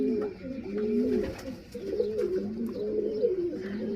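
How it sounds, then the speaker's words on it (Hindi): A Babra Lattha racing pigeon coos close by in steady, rolling low calls that repeat without a break, over a slight room hum. "ये मेरे पास बबरा लट्ठा कबूतर है"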